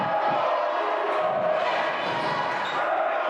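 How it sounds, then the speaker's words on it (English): An arena crowd cheers and roars at a women's college basketball semifinal, a dense sustained noise of voices with a faint commentator under it. "As you hear the crowd starting to get back into it"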